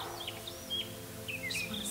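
Faint, sparse bird song: a few thin, high chirps and short whistled phrases scattered over a quiet background with a low hum.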